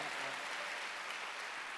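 A church congregation applauding during a Wednesday worship service, a steady, dense wash of clapping held at an even level, fairly distant and soft.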